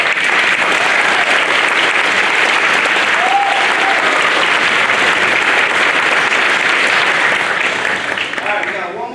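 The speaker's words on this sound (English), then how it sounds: "One more round of applause." A school winter concert audience gives sustained, dense applause after a band performance, steady and loud before easing slightly at the end.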